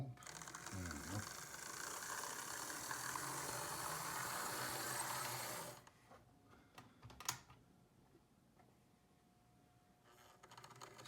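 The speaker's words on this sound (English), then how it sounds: "Seems to be typical Lima pancake motor performance, but it works." Lima HO scale model locomotive with a pancake motor runs with a busy whirring, rattling buzz for about six seconds, then cuts off, leaving a few faint clicks and quiet room noise.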